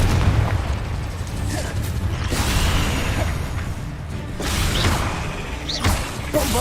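Confringo fire spells cast in Hogwarts Legacy combat: loud, rumbling booms and mechanical clanks roll through a thick wash of battle noise, with a couple of sharper bursts.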